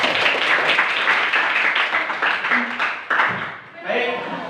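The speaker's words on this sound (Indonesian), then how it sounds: "Tepuk tangan dulu semuanya." A class of children claps hands together in a classroom, a dense, lively patter of many palms that thins and stops after a few seconds, with voices mixed in.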